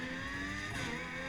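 A formula race car in a racing video game holds a steady, high-pitched engine whine at close range with no pauses, loud and continuous throughout, no talking over it.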